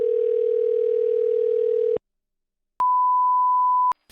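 Telephone ringback while calling a coin shop: a loud steady tone for about two seconds, silence, then a second higher steady tone, clean and close with no talk.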